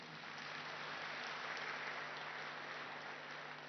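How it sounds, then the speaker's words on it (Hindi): A large audience clapping steadily and evenly at a spiritual gathering, a soft continuous wash of applause with no talking. "कम से कम उसके लिए तो ताली बजाइए।"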